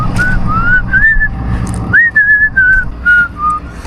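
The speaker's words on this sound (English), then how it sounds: "I like to whistle when I work" A man whistles a wandering tune in short warbling phrases while working on a diesel truck recovery job, loud and close over a rumbling engine-like background.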